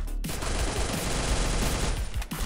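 Rapid SMG bursts fire in the Free Fire battle game, a dense and loud rattle of shots packed closely together for a couple of seconds with a brief gap near the end.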